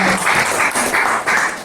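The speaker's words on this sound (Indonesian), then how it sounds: "Oke, tepuk tangan." A group claps hands together at a meeting, a short burst of rhythmic, pulsing claps in roughly regular beats, fairly loud and close.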